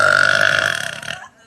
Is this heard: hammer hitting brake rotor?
no